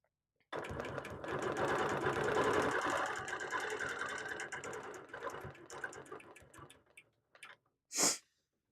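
Sewing machine stitching free-motion and ruler quilting on a quilt panel, a fast continuous mechanical whir that runs for several seconds, slows and stutters to a stop, followed by a brief separate hiss.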